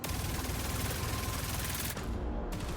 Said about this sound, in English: It shoots so fast and it kind of has like, looks like a magnum. But then it go burr,